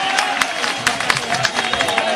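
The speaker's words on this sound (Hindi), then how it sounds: "जरा जोरदार तालियों से उनका स्वागत करें आप" A crowd at a political rally claps a welcome, a dense, steady patter of many hands close by that fills the whole moment.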